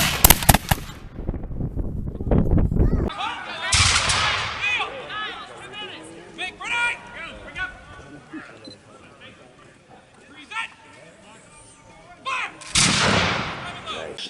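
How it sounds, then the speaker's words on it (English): A massed musket volley from a line of soldiers opens with a shouted command, followed by a long crackle and rumble of scattered shots and echoes, then a second loud volley near the end. "The word volley, basically volley fire, is essentially you're firing en masse."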